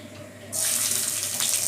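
Chopped ginger hits hot oil in a home kitchen while chilli bread is made. A sudden, steady sizzling hiss bursts in partway through and holds loud and close.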